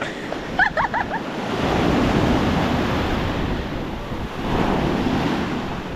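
Sea waves washing onto a shore, a loud, close roar of surf that swells, eases and surges again, blended with wind buffeting the microphone and a brief voice near the start.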